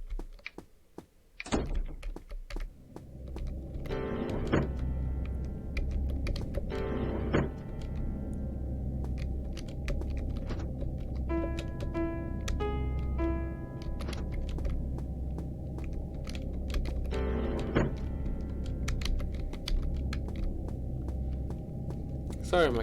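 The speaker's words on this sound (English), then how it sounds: "Sorry, my keyboard's too loud." Loud computer keyboard typing close to the mic, bursts of clattering keystrokes in uneven clusters over a steady low background hum.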